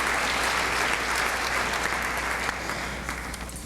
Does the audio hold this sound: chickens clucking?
no